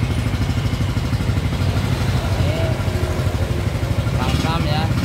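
A Yamaha X-max scooter engine idles steadily at around 1500 rpm, a close, even, pulsing mechanical throb that runs throughout.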